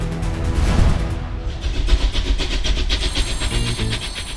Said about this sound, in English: The train is malfunctioning.